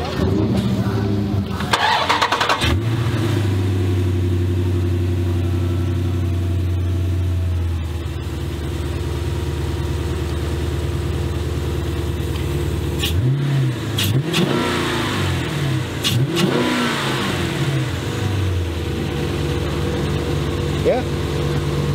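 A 392 V8 cranks and fires up, then idles with a deep rumbling exhaust and is blipped in several sharp revs later on, loud and close, with people talking over the engine.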